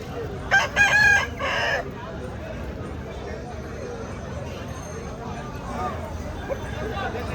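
A fighting rooster crows loudly near the start, a drawn-out call, over a busy background of crowd chatter and murmuring voices at a poultry market in Akkirampura.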